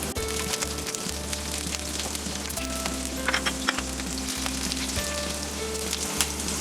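Ginger, three green chillies, seven garlic cloves and onion frying in an oil-filled pan for restaurant-style malai kofta gravy, giving a steady, close crackling sizzle with occasional stirring scrapes and no talk.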